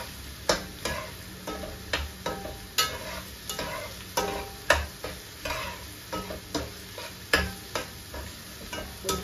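Okra stir-frying in a pan, with a soft continuous sizzle under repeated sharp spatula scrapes and taps coming at an uneven rhythm, close by.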